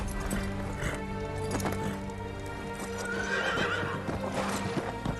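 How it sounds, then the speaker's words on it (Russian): A horse in the samurai video game Ghost of Tsushima whinnies loudly while its hooves clip-clop in a steady gallop, with a continuous game soundscape underneath throughout. "Вы выбрали для коня имя Нобу"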